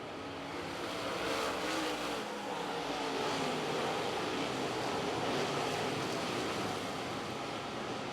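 Late model race cars of a steel block series at Atomic Speedway, a steady, dense engine roar from a field of cars circling the dirt track, heard at a distance with a broad wash of noise and no clear single pass-by.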